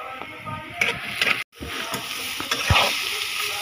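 Onions sizzle in a hot pan while a spatula stirs and scrapes them in irregular bursts, close and fairly loud, with a brief break partway through.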